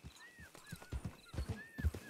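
Hooves of a Hungarian horse being broken in clip-clop on the ground in an uneven rhythm of soft thuds, faint and fairly close, with no voices.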